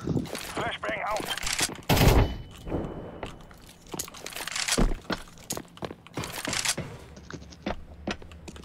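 A flashbang grenade thrown in Counter-Strike 2 on the Nuke map amid a burst of gunfire, cracks and impact thuds, with a loud sharp blast around the middle and a player talking over the action.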